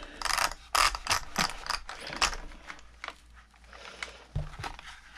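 Tool working on the slipper clutch of a Traxxas Maxx RC car, giving close, irregular ratcheting clicks and metallic mechanism rattles in short bursts, with no talk.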